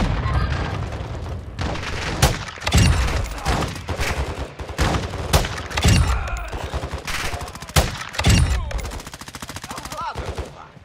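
Sustained automatic gunfire in Call of Duty Warzone DMZ, loud close bursts and heavy booming shots repeating in irregular volleys, with rapid rattling fire toward the end.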